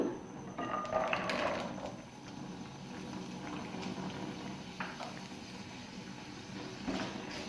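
Potatoes fry in oil in a pan, a soft steady bubbling sizzle with occasional stirring clatter near the start, close and fairly quiet throughout.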